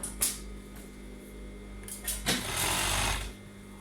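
A sewing machine stitches the leg seams of pajamas in short bursts, its close mechanical whir rising into a longer steady run near the end over a low constant hum.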